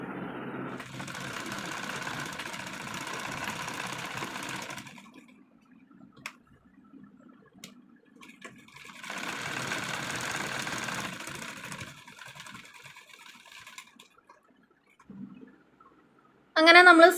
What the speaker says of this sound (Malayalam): ഇനി അതങ്ങ് സ്റ്റിച്ച് ചെയ്ത് കൊടുക്കാം.